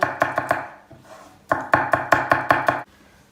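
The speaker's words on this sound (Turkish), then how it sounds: "Soğanın içine de iki diş sarımsak doğrayacağız." Quick knife chops through garlic on a cutting board in two rapid runs, a few strikes, a short pause, then a steady burst of about half a dozen more.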